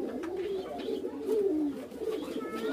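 A pair of modified satin pigeons coo in low, rolling, repeated calls close by, with faint background noise throughout.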